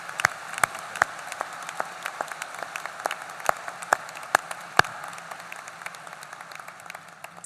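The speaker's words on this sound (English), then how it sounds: "Please join me in a round of applause to show our appreciation." Applause from a winter commencement audience in a large hall, a thin, sparse clatter of clapping with scattered sharp individual claps standing out, fairly distant and gradually thinning toward the end.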